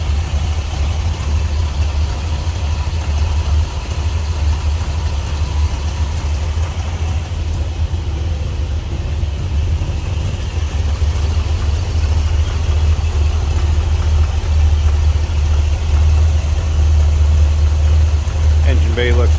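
Original engine of a 1981 Chevrolet Corvette idling, a steady low rumble close by and constant throughout, with a faint voice underneath.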